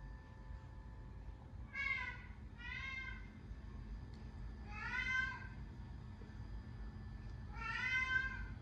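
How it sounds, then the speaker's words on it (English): A cat gives four separate, fairly faint meows with short gaps between them over a steady low background hum. "Meow."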